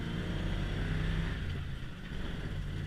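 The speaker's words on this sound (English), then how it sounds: "This truck is super loud." Ford F350 crew cab long bed pickup on large monster tires crawling in low first gear, its engine giving a loud, steady rumbling drone.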